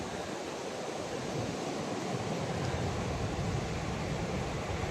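Pacific Ocean surf rolling in steadily, a broad continuous wash of breaking waves with some wind noise, with no voices over it.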